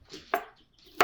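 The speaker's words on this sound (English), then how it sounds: "let's cut up the cucumbers" A knife slices cucumbers into rounds on a board, giving two or three crisp, close chops separated by brief pauses.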